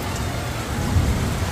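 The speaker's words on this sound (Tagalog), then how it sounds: "kahit na umuulan" Heavy rain pours down in a dense, steady roar, loud and close throughout.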